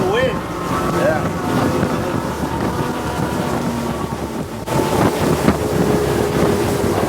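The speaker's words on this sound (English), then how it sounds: "That's the wind" Heavy wind buffets the microphone on a Sailfish 360 center console boat running at speed, a constant roar over the engine and water rush, with faint voices underneath.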